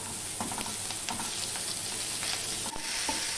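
Onion sautés in a pan for a vegetarian brinjal bharta, with a steady close sizzle, frying crackle and scraping stir strokes; no voices.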